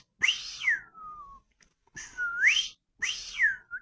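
A human voice whistles an imitation of the screaming piha's song: three loud, close, ringing whistled phrases, each a rising or falling slurred note, separated by short pauses.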